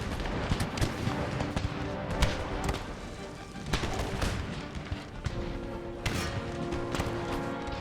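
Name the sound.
cannon artillery fire in video game Empire: Total War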